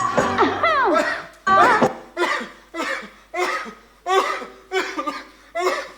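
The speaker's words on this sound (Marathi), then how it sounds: "डॉक्टर डॉक्टर डॉक्टर मला खोकला लागला हो." A person coughs over and over in a steady rhythm, about eight loud, close bursts with short pauses between them.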